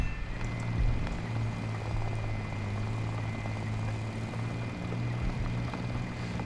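Enemy recon drone flying in a video game, a steady droning engine hum that holds at an even, moderately loud level throughout with no break.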